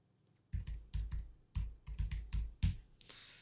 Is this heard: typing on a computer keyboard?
yes